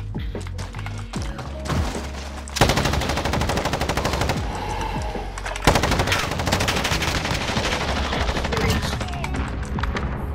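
A light machine gun fires in a gunfight video game, its rounds rattling off in long, evenly spaced, fast bursts that are loud and close, with a brief pause partway through before the stream resumes.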